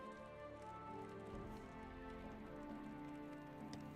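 Horse hooves clip-clop steadily in Lord of the Rings Online, a faint, even rhythm set against a quiet layered ambient backdrop.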